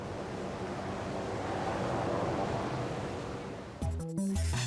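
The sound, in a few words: ocean waves breaking on a beach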